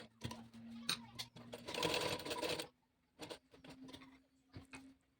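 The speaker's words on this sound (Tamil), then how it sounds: "நம்ம எண்டு வரைக்கும் இதே மாதிரி சேம் ப்ரொசீஜரில் ஸ்டிச் பண்ணி எடுத்துக்கணும்" A sewing machine stitches a simple blouse in short quiet bursts, one longer run in the middle with brief stops between, close up with no talking.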